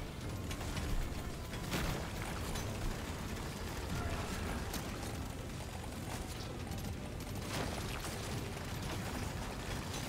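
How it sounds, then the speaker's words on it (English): Constant clattering explosions and turret fire in Deep Rock Galactic: Survivor, a dense, busy barrage of crackling bursts and mechanical rattling that continues without break at a steady, moderate level. "All these explosions."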